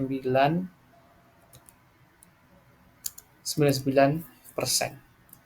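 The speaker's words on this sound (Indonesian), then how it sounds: "Kemudian kita klik OK." Computer mouse clicks while working in ACL audit software, a few sharp, close clicks scattered between bursts of a person talking.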